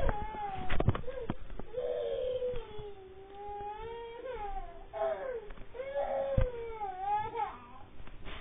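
A baby cries in drawn-out, wavering wails and whimpers, with a few sharp knocks and handling noises nearby.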